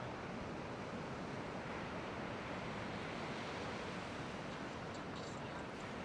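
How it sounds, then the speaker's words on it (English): Ocean waves breaking near a pier, heard as a constant, soft, distant wash of surf with a faint wind hiss, even and unbroken throughout, with no voices. "what beautiful waves are coming in right now."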